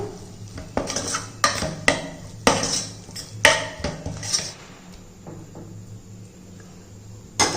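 Curd and roasted gram flour being stirred together in a metal pan, giving a run of sharp scraping and clinking utensil strikes against the pan, loud and close, thinning out toward the end.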